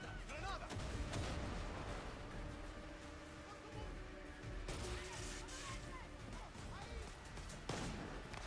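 Sharp blast of a grenade explosion in Far Cry 6, with bursts of loud impact noise and scattered gunfire-like cracks over a rumbling game background, with a voice talking intermittently.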